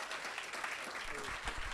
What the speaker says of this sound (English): I'll ask for more round of applause.